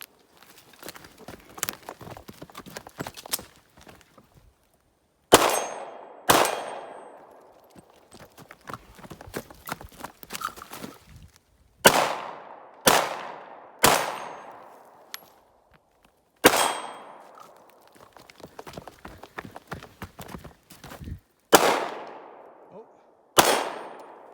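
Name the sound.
Luger P08 pistol gunshots during timed shooting run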